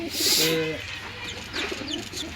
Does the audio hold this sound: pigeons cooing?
yes